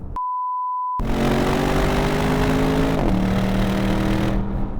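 A 2018 Porsche Panamera Sport Turismo Turbo accelerates hard after a short electronic beep, its engine note climbing steadily, dipping at a gear change, then rising again, heard from inside the car without talk.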